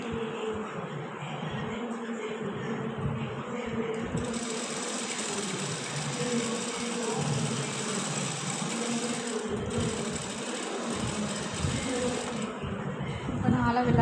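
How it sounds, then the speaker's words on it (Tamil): Sewing machine stitching a salwar pant, a steady continuous mechanical whir running the whole time with brief dips in pitch around the middle, close and fairly loud, no talk over it. "கண்டினியூவாக தையல் வந்து வந்துக்கிட்டே இருக்கும்."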